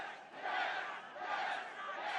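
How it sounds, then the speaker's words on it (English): A stadium crowd at Al Lang erupts after a goal in a Tampa Bay Rowdies versus Miami FC soccer match, a loud sustained roar of distant cheering that swells in waves. "And the crowd here at Al Lang erupted"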